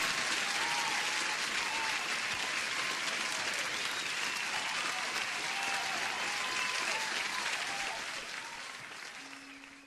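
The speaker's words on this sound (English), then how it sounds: "Let me give you an applause." Dense, steady applause from a crowd runs loud and continuous, then thins and fades slightly toward the end, with no talk over it.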